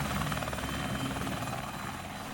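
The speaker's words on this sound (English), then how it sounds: "we watched the helicopters taking off" Helicopters take off at an airport used as festival grounds, a loud, close, continuous rotor roar with a pulsing chop that fills the whole moment.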